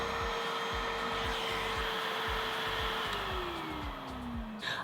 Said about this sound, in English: use your finger to block it and tilt the head forward to get as much suction power as possible